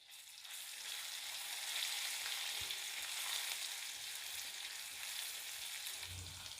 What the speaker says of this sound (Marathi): साधारण अर्धा मिनिट मी हा अद्रक लसूण तेलात चांगला परतून घेतलेला आहे